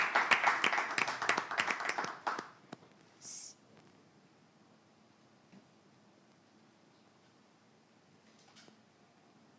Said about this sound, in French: nous accueillons notre candidate avec des applaudissements plus nourris